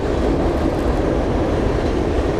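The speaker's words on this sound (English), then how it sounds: "there's a train here" A train rumbles past at close range near a winter fishing spot, a steady, loud low roar with faint rhythmic wheel clatter filling the whole stretch, no voices.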